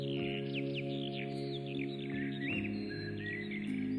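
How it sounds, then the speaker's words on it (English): Cheerful birds chirp and trill in quick varied phrases over a steady sustained musical backdrop, the calls close and clear throughout. "Listen to how happy these birds are."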